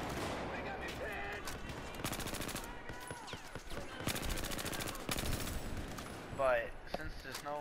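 Automatic rifle fire in Battlefield 4, with rapid bursts of shots recurring throughout over busy battle noise and scattered in-game sounds.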